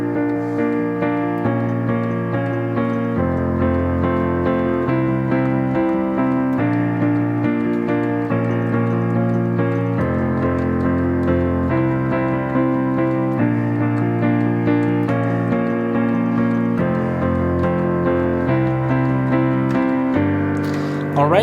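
A piano plays the chord progression of a song in time, with steady, full sustained chords changing every couple of seconds at an even, fairly loud level.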